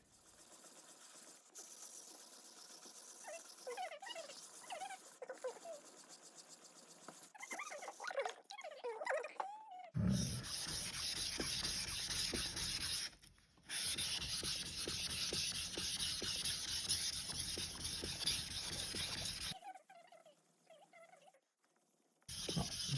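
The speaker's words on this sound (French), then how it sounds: "Il faut le garder sur la pierre pour que c'est ça qui aiguise le couteau" A deba knife blade is rubbed back and forth across a whetstone. Soft, rhythmic scraping strokes at first, then long loud continuous grinding passes with short pauses between them, heard up close.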